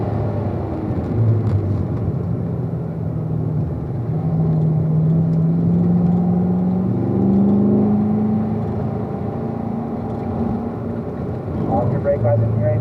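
A car engine drones loudly on a racetrack during a track session, pitch climbing steadily as it accelerates out of a corner, with a person talking over the engine noise.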